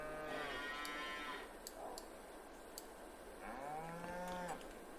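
Cows in the Farming Simulator 22 video game moo twice, a drawn-out low call near the start and another near the end, with light clicking and ticking game sounds scattered between them.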